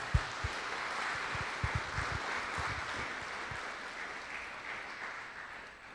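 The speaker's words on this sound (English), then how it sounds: "I think they deserve a round of applause." Applause from a seminar audience for a panel on advanced air mobility and unmanned aircraft systems, a moderate crowd clapping steadily and then slowly fading.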